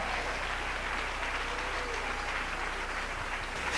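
A church congregation applauding together, a dense, continuous wash of clapping that stays loud and even for a few seconds without breaking off.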